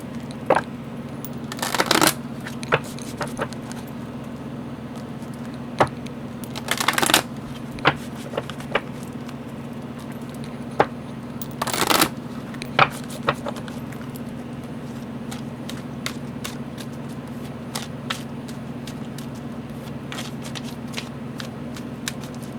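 A deck of oracle cards is shuffled in short riffling bursts several seconds apart, with scattered single card taps between them, close and over a steady low hum.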